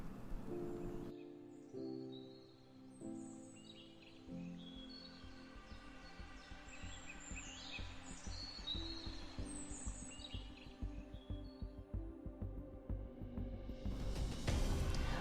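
Sunrise alarm clock playing natural bird chirping with flowing river sound: layered tweets and trills over a soft watery rumble, gradually growing louder toward the end.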